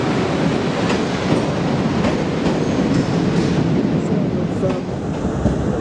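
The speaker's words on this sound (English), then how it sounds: "The train now approaching platform 2 is the 1745 South Western Railway service to Portsmouth Harbour." A South Western Railway train rumbles and clatters steadily close by as it arrives at Portsmouth and Southsea station platform, a continuous loud roar of wheels and carriages with faint metallic squeals.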